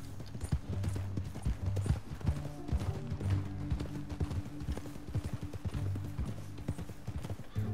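A horse's hooves clip-clop in a quick, even rhythm throughout a Red Dead Redemption 2 ride, close and clear, with no talk.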